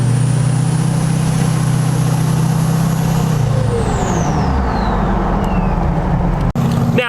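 A truck engine runs loud and close with a steady low hum, then shifts down and fades into a rushing drone as it pulls away, ending with a sharp click.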